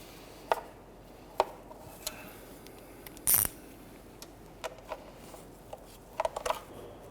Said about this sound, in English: Now we switch over to a 1/4" ratchet.